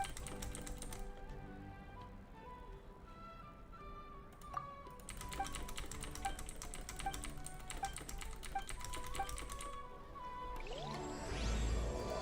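Computer keyboard keys clack in quick, steady bursts of typing, close and fairly loud, over a quiet bed of background music during a gaming session.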